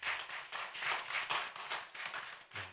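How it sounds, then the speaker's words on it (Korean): Church congregation clapping in encouragement after a special song, a soft, fairly quick run of individual claps from a modest crowd with uneven rhythm, faint and without talk. "서로 격려하는 박수를 함께 나누겠습니다."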